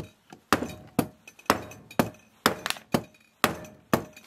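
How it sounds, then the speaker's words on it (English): A series of sharp metallic blows from a lead hammer on a stuck boat engine part, about eight evenly spaced strikes roughly every half second, close and clear with brief ringing decay. "Use a lead hammer."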